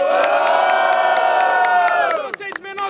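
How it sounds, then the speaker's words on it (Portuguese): Crowd at a Brazilian rap battle cheering and shouting loudly, a dense sustained roar of many voices that cuts off abruptly into scattered shouts. "quem acha que o menor do Jota foi superior faz muito barulho"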